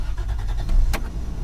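Car or truck engine cranking and catching after the ignition is switched on, following installation of an ignition killswitch, with a low rumbling churn, a short sharp burst as it fires, then steady idling close by.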